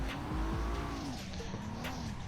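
A car drifts through a corner after a clutch kick, its engine droning as the tires squeal in a long rising-and-falling howl, loud and close, with no one speaking.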